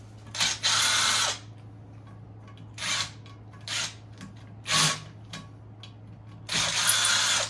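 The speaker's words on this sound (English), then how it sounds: "This is where you use a 1/4 inch socket." A ratchet turning a 1/4 inch socket on a pool pump motor while swapping in a Neptune variable speed motor; several short bursts of rapid clicking, close and fairly loud, separated by pauses over a steady low hum.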